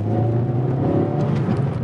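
A 2019 Suzuki Swift Sport accelerates with a steady engine drone and hum, heard from inside the car at fairly constant pitch.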